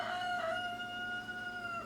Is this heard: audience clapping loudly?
no